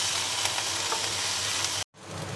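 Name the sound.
tomatoes being stirred and fried with ginger, onion and garlic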